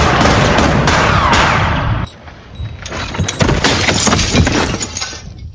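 Several sharp, loud gunshots crack out in quick succession inside a house in a cowboy film, the first burst harsh and shattering, followed by more scattered impacts echoing indoors.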